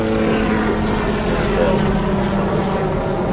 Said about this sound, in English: We got this helicopter flying over